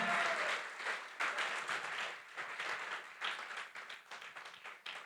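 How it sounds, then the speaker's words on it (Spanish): A church congregation bursts into applause, the dense, fairly distant clapping swelling and ebbing in waves that continue throughout. "Alguien que le dé un aplauso a Dios con alegría."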